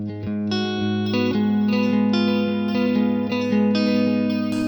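Clean electric Strat tone through a Fender Bassman amp model into a British 2x12 cab, strummed chords ringing continuously with a chorus-like shimmer and light ambience, loud and close with no talking.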